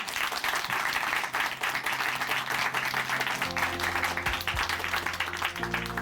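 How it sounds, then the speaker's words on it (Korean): Sustained, dense applause from a church congregation at Chuncheon Hanmaeum Church fills the room at a steady level, with a soft, low background tone entering partway through. "다시 한번 박수 보내드릴게요."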